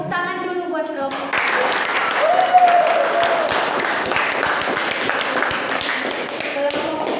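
Classroom applause for a student group: a group claps together, starting abruptly after a brief pause and holding steady, with a teacher's voice and chatter mixed in.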